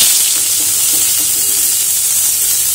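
Onions are tossed into hot oil with curry leaves and hiss loudly in an even, continuous sizzle, close up, with faint stirring underneath and nobody talking.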